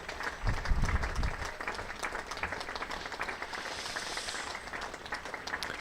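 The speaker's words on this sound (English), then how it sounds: "Let you hear the applause, because my word," A cricket crowd at a Leicestershire versus Glamorgan County Championship match applauds a departing batsman's century, a steady distant wash of clapping that swells early and then holds on evenly without a break.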